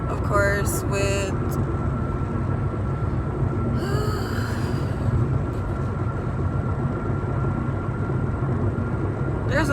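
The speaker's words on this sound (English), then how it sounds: "there's another train." A passing train rumbles steadily beside a moving car, a broad, loud roar mixed with road noise, with a voice briefly talking near the start.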